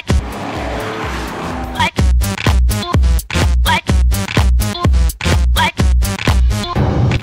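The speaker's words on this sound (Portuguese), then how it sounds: "O ronco do motor pode ser ouvido em alto e bom som." A loud classic Porsche 911 engine revs hard again and again in short bursts, each roar rising and cutting off in a steady, rhythmic sequence, close to the microphone.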